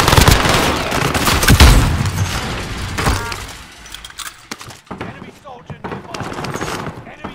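Rapid bursts of gunfire from a shooter video game, loud and dense at first and then thinning into scattered shots, with voices talking over it.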